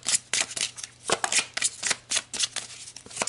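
A deck of tarot cards being shuffled by hand during a reading, a quick close run of crisp riffling flutters and soft card slaps in an uneven rhythm, with nobody speaking.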